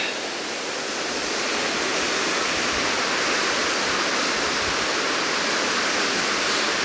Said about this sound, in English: So this is Hraunfossar waterfall, or the lava waterfalls, lava field waterfalls.